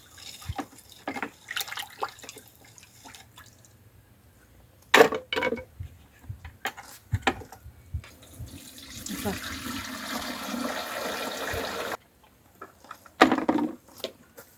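Lime mixture for spraying an orchard poured through a sieve into a sprayer tank, with intermittent trickling and splashing close by, separated by knocks and pauses, plus a steadier pour toward the end.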